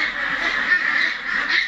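A crowd of meat ducks quacks continuously during a farm harvest weighing, a dense overlapping chorus of nasal calls, steady and moderately loud with no clear gaps.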